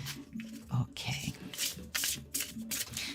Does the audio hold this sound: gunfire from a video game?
no